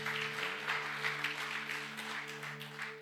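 Congregation applauding during a Sunday church worship service, a steady wash of clapping held at an even level for the whole span, with a sustained musical tone underneath.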